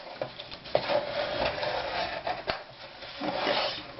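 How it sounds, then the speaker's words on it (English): Paper is folded along a half-inch score mark while making an 8x8 scrapbook mini album, with soft rubbing and creasing rustles and a couple of sharper crinkles over a few seconds. "I'm going to fold the first 1/2 inch score mark"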